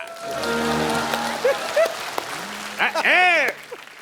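A studio audience at a TV quiz show claps in a continuous, dense wash of applause, partly covered by a voice and bright musical tones.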